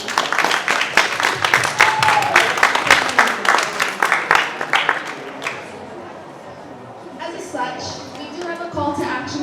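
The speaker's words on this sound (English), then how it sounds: "Can we get another round of applause for them" At an outdoor community mental health celebration BBQ, a crowd gives a round of applause, lively clapping mixed with voices that fades after several seconds into quieter chatter and speech.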